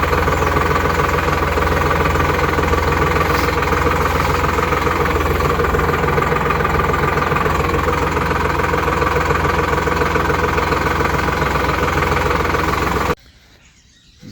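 A Sonalika 740 DI power-steering tractor engine runs close by, a loud steady diesel throb with a rhythmic knock that holds constant for about thirteen seconds before cutting off abruptly.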